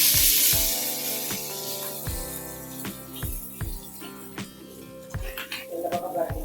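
Trevally fish frying with curry leaves in hot oil gives a soft, steady sizzle behind rhythmic scraping and tapping from a pan, with a person speaking over the cooking.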